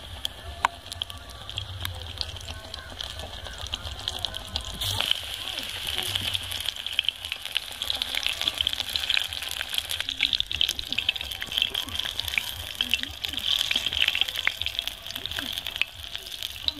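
Beguni, eggplant fritters, deep-fry in oil with a continuous bubbling sizzle that brightens and intensifies midway, punctuated by small pops and crackles.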